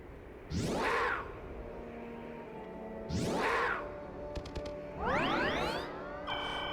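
Cat unit in the video game Fire Emblem: Path of Radiance, heard as three loud, rising and falling meow-like cries spaced a few seconds apart, with brief chiming game effects in between.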